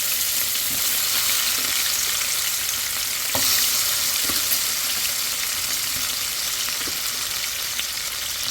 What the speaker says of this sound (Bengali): দেখি কড়া করে ভাজবো না হালকা একটু ভেজে নিলেই হবে